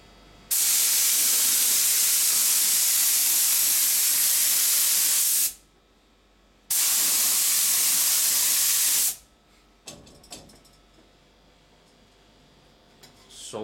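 Coating is sprayed onto glass and metal sheet in two long, loud bursts of steady aerosol hiss, each lasting several seconds, followed by quieter handling clatter and faint rustling.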